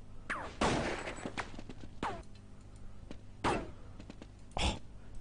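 Gunshots from Counter-Strike 1.6 on de_dust2 during a competitive match: several sharp, separate cracks spaced unevenly over a few seconds, fairly close, each with a short decaying tail over low background hum.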